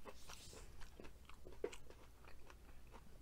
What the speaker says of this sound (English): Crunch of the potatoes, amazing.